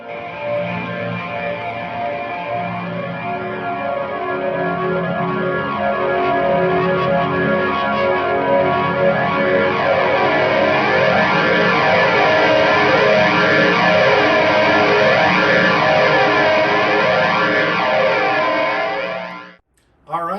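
A sustained electric guitar chord through a Chase Bliss Brothers AM overdrive pedal rings out loud and warm, swirling slowly as it sustains, then cuts off abruptly near the end.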